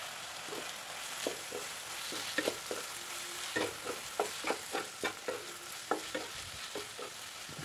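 Garlic, ginger and green chili paste frying for chicken kosha sizzles steadily in a pan, with repeated soft scraping strokes of a spoon stirring through the paste.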